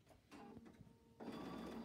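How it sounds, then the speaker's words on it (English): Sewing machine stitching an elastic ear loop onto a fabric face mask, a soft quiet whirring that starts briefly, pauses, then runs steadily louder in the final stretch. "Take it to the sewing machine and we're just going to stitch that loop"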